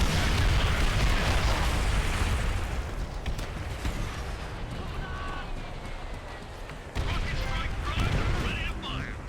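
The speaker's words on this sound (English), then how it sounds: "After using the airstrike to take out 4 or more Japanese soldiers at the start of the mission" Airstrike explosions from Call of Duty: World at War, with Japanese soldiers as targets: a dense, continuous low rumble of blasts and debris that is heavy at the start, eases, then swells again near the end.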